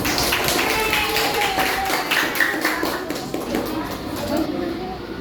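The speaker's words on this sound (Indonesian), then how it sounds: "Tepuk tangan untuk kelompok 1." Classmates in a school lesson clap for a presenting group, a busy patter of hand claps running throughout with voices talking over it in the room.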